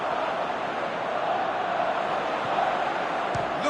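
A football stadium crowd roars in a sustained, dense wash of noise after a near-miss shot, loud and continuous throughout with a slight swell toward the end.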